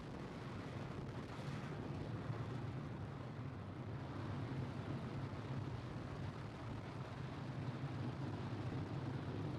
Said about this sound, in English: We're now 30 seconds into flight on the Falcon 9. All engines are running at full power.